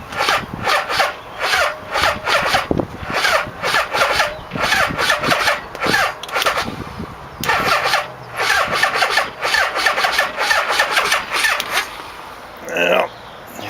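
A Yamaha Vmax motorcycle engine with a weak battery cranks in repeated rasping bursts, slow and labored, separated by short pauses, close and loud.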